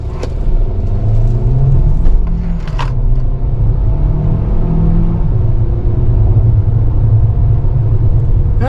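A 2025 Hyundai Kona N-Line S AWD accelerates hard, heard from inside the cabin as a loud continuous engine drone rising in pitch through gear changes, with road rumble underneath.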